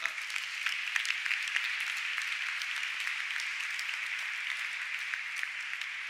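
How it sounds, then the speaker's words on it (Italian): An audience applauds an aerospace engineering student being introduced, a steady patter of many hands clapping at moderate distance, fairly soft and unbroken throughout. "Vittorio, grazie, un applauso."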